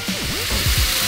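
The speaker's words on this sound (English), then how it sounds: "that nice sizzling." Maple syrup and marshmallows sizzle in a nonstick pan, a close, steady frying hiss with a few soft bubbling pops over about a second.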